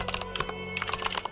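Quick keystrokes sound close up on a computer keyboard while a command is entered in an Ubuntu server terminal, a rapid uneven patter of clicks over about a second.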